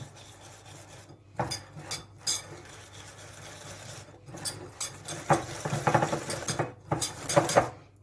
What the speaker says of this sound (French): commencer par mettre la poudre de noisette. Vous mélangez bien.